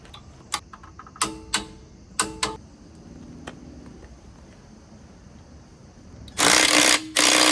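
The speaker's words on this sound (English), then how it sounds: "we're going to go ahead and torque these in at about 85 foot-pounds each" Clicks from a torque wrench tightening wheel spacer lug nuts to about 85 foot-pounds on a Toyota 4Runner, a few sharp separate ratchet ticks, then a loud burst of noise near the end.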